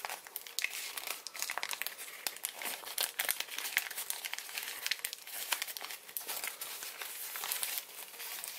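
Sheets of origami paper are folded and creased while shaping a baby Ryujin dragon model, giving steady, close crinkling and crumpling with sharp rustles throughout, no talking.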